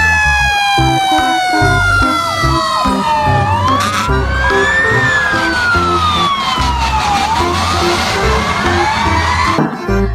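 Toy fire engine siren wailing loudly and continuously, rising and falling through electronic sweeps over a mechanical hum for about ten seconds, with no talking.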